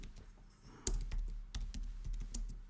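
Close, quiet typing on a computer keyboard, an irregular run of soft key taps and clicks with one firmer keystroke early on.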